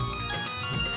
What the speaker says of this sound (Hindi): अरे ये तो सोने का फोन है।